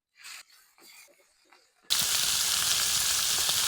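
Hilsa fish pieces dropped into hot oil in a pan, a sudden loud burst of sizzling that continues steadily after a few brief words of speech.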